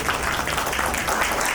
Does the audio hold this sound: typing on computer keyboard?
no